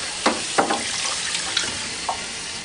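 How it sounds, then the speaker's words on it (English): Clean water rinsing food-zone components of a Manitowoc Neo ice machine, a continuous hiss of running water with a few brief splashes and knocks of parts being handled. "wipe down each component thoroughly, and then thoroughly rinse with clean water."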